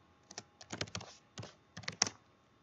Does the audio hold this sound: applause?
no